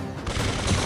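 A short, dense burst of rapid video-game gunfire, loud and close, with rattling shots running together for under a second.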